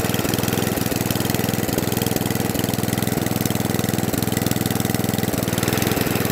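An Atco Balmoral cylinder lawnmower engine runs close by in a steady, loud, even chug with a faint rhythmic ticking through it, continuous for the whole stretch with no talking.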